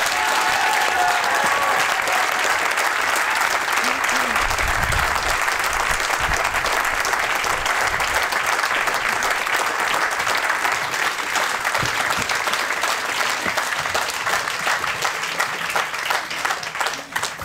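A large audience at a political rally applauds loudly and continuously, a dense wash of clapping with some crowd noise, close and sustained throughout.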